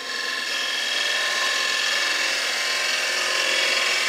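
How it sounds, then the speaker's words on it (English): A 3/8 bowl gouge takes a fine cut on wood spinning on a lathe toward the centre of a bowl, making a continuous, dense, fairly loud scraping rasp that holds steady with no talk. "you can pick up the cut with your 3/8 bore gouge there"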